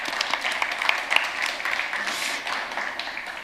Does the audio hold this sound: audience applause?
yes